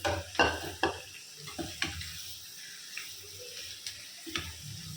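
Chicken for chicken sukka varuval sizzles in a pan, fried without water while a spoon stirs and scrapes, with irregular clattering knocks over a steady hiss.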